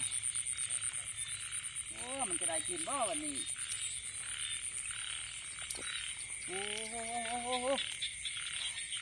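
Frogs croak in two bursts of rattling, throaty calls, clear over steady insect hum and rain noise near a rice paddy, with a man briefly exclaiming between them.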